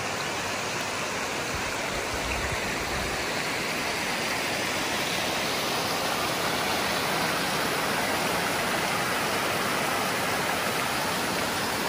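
A Grout Creek tributary waterfall near Big Bear, California, rushes down toward the lake in a loud, close, unbroken roar of falling water with no voices.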